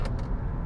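Engine of a 2026 Kia Sportage droning loudly and steadily inside the cabin during a hard 0-60 run, with a constant low rumble and a couple of brief higher hissy bursts near the start.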